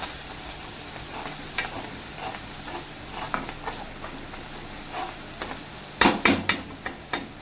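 Onions and spices sauté in oil in a pan for a cashew curry, giving a steady close sizzle. Scattered spatula scrapes and clinks grow louder and more frequent toward the end.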